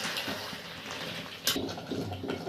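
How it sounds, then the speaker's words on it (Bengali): Hot water pours into a pressure cooker of Bengali mutton curry, a steady close splashing wash with a brief louder surge midway. "অল্প গরম জল ঢেলে দিচ্ছি।"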